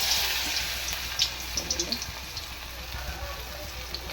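Puffed rice vadas frying in hot oil give off a steady sizzle with small popping crackles scattered through it.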